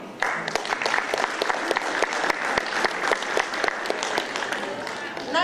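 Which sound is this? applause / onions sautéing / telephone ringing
applause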